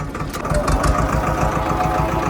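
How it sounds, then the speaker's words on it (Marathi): A tractor engine runs steadily at close range in low-top gear during first-day ploughing, a loud continuous rumble with faint speech over it. "मित्रांनो लो टॉप वर चालू आहे ट्रॅक्टर"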